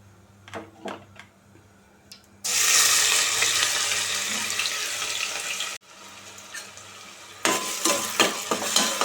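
Onion frying in hot oil in a pressure cooker, a loud hissing sizzle that bursts on abruptly, drops out briefly and returns, with scattered stirring clicks before and after.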